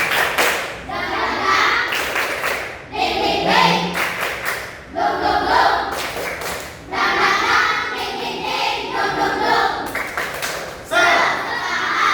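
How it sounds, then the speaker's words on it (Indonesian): A standing class of children performs a rhythmic spirit clap, bursts of patterned group clapping in a room, loud and close, broken by short pauses and mixed with children's voices. "Tepuk semangat."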